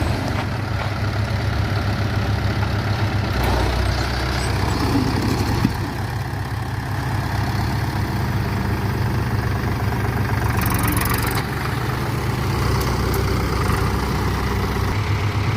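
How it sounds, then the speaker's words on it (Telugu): Two tractors, a Mahindra 575 DI XP Plus and a Powertrac Euro 45 Plus 4WD, run in high second gear at about 1000 RPM, giving a steady, loud diesel engine drone that holds throughout without talk. "ఇప్పుడు ఈ రెండు ట్రాక్టర్లు వచ్చేసి హై సెకండ్ గేర్లో రాబోతున్నాయి"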